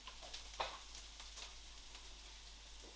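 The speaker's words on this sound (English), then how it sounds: "the onions and the peppers have been frying nicely for about 5 minutes" Soft, steady sizzling of onions and peppers frying in a pan for paella, a low continuous crackle with a brief louder spatter near the start.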